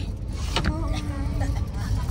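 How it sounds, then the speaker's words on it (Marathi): A car's electric power window whirs shut from inside the vehicle on a cold night, a thin motor hum running under low road and cabin rumble. "आता काच बंद करून दे."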